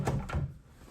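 A hotel room nightstand drawer at a Miami Beach resort slides open or shut, giving two quick close wooden knocks and thumps in quick succession, then a quiet room.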